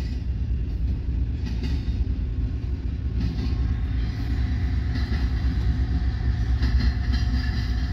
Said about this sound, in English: Comes our mid-train DPUs, three of them.